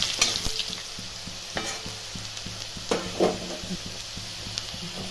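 Chopped onion fries in mustard oil with whole cumin, a continuous close sizzle with repeated scraping strokes of a spatula stirring the pan at an uneven pace, no voices.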